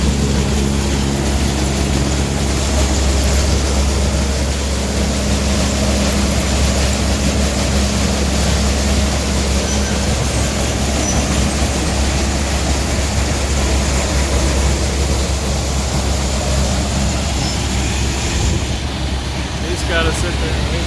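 A silage blower runs steadily while filling a farm silo, a loud continuous mechanical roar with a low droning hum that holds for the whole stretch without pause.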